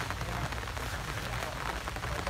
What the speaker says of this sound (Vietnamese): Hiện tại phía ngoài đang có những giọt mưa nhỏ nhỏ nha các bạn.